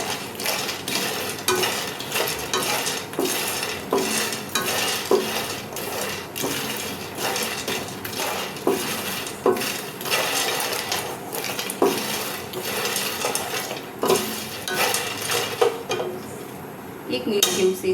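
Fox nuts and roasted chana are dry-roasted in a pan over medium flame, with a steady run of light rattling, scraping and clinking as they are stirred and tossed, close and without talk.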